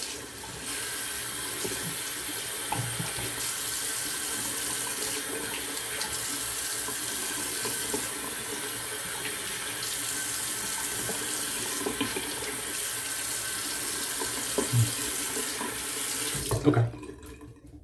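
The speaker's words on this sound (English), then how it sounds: "I just took some water, basically just rinsed everything off" A bathroom tap runs steadily while water is splashed to rinse soap lather off a face, a continuous close hiss with small splashes, ending in a brief clatter as the flow stops.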